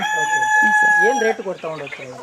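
Country chickens (nati koli) on an egg and poultry farm give a loud crow followed by a run of clucking, close to the listener, with a high whine in the background at the start.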